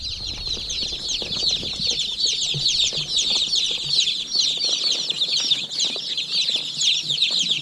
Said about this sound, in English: All the chicks are in there.